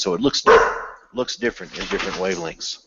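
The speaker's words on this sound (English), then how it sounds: "That's my dog" A pet dog barks loudly close by, a sharp bark burst near the start, with someone talking about sunspots around and over it.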